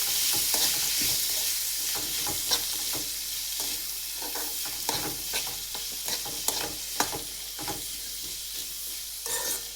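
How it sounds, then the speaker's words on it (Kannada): Chopped onion, tomato and ginger garlic paste stir-frying in a pan, a steady loud sizzle broken by repeated scraping stirring strokes, with no talking. "ಈರುಳ್ಳಿ ಮತ್ತು ಟೊಮೊಟೊ ಎಲ್ಲ ಬಾಡೋಗಬೇಕು, ಅಲ್ಲಿವರೆಗೂ ಚೆನ್ನಾಗಿ ಹಾಗೆ ಫ್ರೈ ಮಾಡ್ಕೊಳ್ಳಿ"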